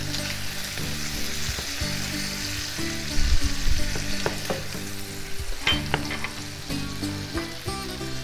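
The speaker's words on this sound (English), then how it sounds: "At this stage, we will put in the concasse that my son so expertly prepared." Tomato concasse for a Greek drunken shrimp dish sizzles and fries steadily in a hot pan, with a loud continuous crackle and occasional stirring scrapes and bumps.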